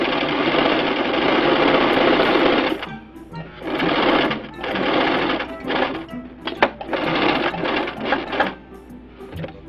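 A sewing machine stitches thin cotton and briefly reverses to lock the stitch, a loud, close whirring run followed by choppy stop-start bursts and clicks.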